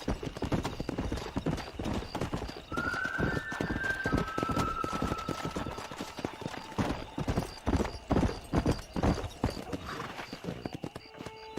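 Horse hooves clip-clop steadily in the Red Dead Redemption video game, a brisk rhythmic trot heard up close and fairly loud, with a brief whinny-like tone early on and game ambience behind.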